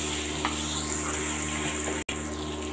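Beef and onions sizzling in a pot for Afghani kabuli pulao, a steady close frying hiss that continues throughout, with a very brief dropout near the end.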